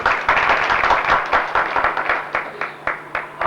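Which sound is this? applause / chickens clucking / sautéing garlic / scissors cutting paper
applause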